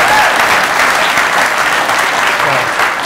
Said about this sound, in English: give a round of applause to Link and everybody else